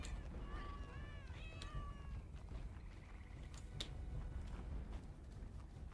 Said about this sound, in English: There's cats in here!